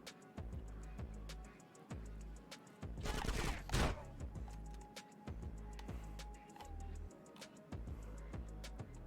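Gunfire in Grand Theft Auto: San Andreas Definitive Edition rings out as repeated sharp shots at irregular intervals, with a dense burst around the middle, fairly quiet and without talk.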